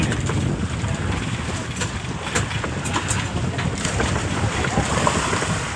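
Strong northeast monsoon wind (amihan) buffets the microphone at sea aboard a small boat, a loud continuous roar with wave and hull noise underneath and brief faint voices.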